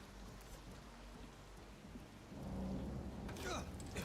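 A video-game thunderstorm with lightning: steady rain hiss that swells midway into a louder rumbling wash, with a faint crackle near the end.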